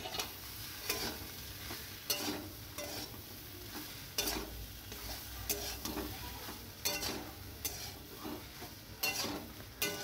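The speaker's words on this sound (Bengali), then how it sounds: "এর মধ্যে আমি এবার সয়াবিনগুলো দিয়ে দেবো।" Washed soybean chunks stirred into a frying spice paste in a pan, giving a continuous sizzle broken by rhythmic clanks and scrapes of a spatula, close up and without any talking.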